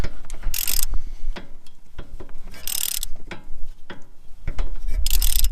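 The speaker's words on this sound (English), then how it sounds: "my impact is too big to get in there, so I'm using just a ratchet" A hand ratchet turns a bolt during a Mazda 6 front strut replacement, giving repeated close, crisp clicking bursts in uneven rhythm with brief metallic pauses, heard alone without talk.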